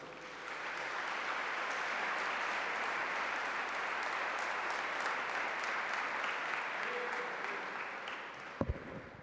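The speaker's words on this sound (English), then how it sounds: "please give a big warm round of applause to Brother Kahil Yamin." Steady applause from a large audience at a religious ministry gathering, fairly far off and even, holding for several seconds before fading and ending with a couple of sharp knocks.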